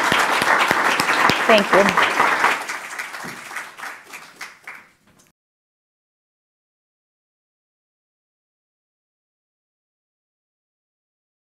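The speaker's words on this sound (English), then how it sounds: "I'll encourage you to applaud our panel here that has been really amazing." Audience applause for a panel at a data and equity event rings out loudly, then thins into scattered claps and fades to silence; a voice briefly speaks over the start.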